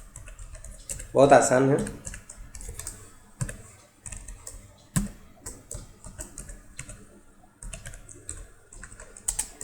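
Java code is typed on a computer keyboard in irregular clusters of crisp key clicks, with a dense burst near the start and scattered taps afterward, while a person speaks in between.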